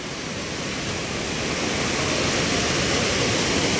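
A river in Konkan, flooded after torrential rain, roars in a loud, unbroken rush of churning water that holds steady from start to end with no voices.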